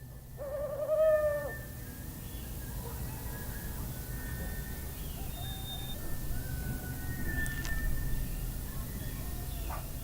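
An owl hooting in a forest, a single close hoot near the start followed by quiet woodland ambience with faint distant bird calls.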